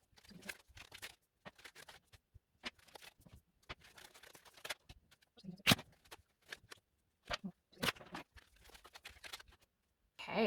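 Tarot cards being shuffled by hand in a quiet room, a run of soft riffling bursts and flicks in irregular rhythm, close and fairly faint, with a few sharper snaps between pauses.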